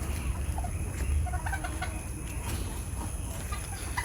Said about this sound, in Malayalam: എൻ്റെ കയ്യിലുള്ള ഒരു ടർക്കി കോഴി ഉണ്ട് അതുപോലെ തന്നെ കുറച്ച് നാടൻ കോഴികൾ ഉള്ളത്